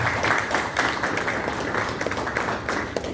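Audience applause at a mushaira, an Urdu poetry gathering at Poona Club: steady, dense clapping from a crowd that holds at an even level for the full stretch, with no voice over it.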